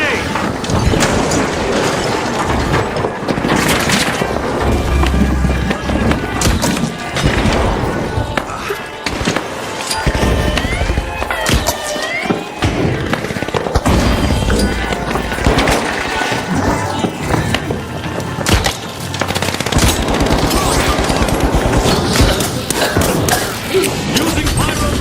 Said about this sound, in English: Using pyro grenade.